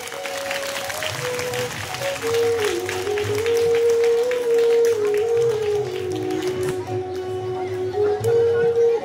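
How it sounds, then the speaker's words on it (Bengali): Loud, sustained applause from an audience at a school farewell ceremony in Baital, dense continuous clapping under a steady musical tone. "জোরে হাততালি।"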